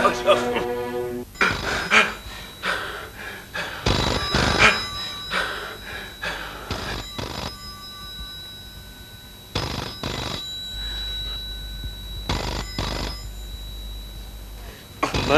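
A telephone bell rings in repeated bursts indoors, loud and close, with voices speaking over and between the rings.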